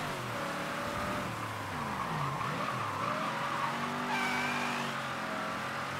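A car drifting in the video game Mafia 3, tires squealing in long wavering skids over a steady engine roar, loud and close throughout.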